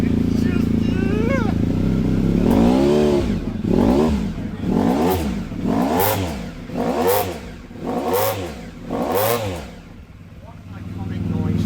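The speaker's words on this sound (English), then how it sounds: "it's got an aftermarket exhaust, a custom exhaust on it. That's why it's got that rumble." Car engine with a custom aftermarket exhaust rumbles through a series of about six repeated revs, each rising and falling in pitch, loud and close, with people talking over it.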